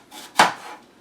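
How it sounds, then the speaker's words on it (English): A knife chops through a juicy apple on a board with a single sharp, close thunk, set against a quiet background. "We're just going to chop the apple into little cubes"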